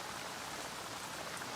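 Heavy rain pours down in a cartoon rainforest storm, a dense, even hiss of falling drops, steady and fairly soft throughout with no voices.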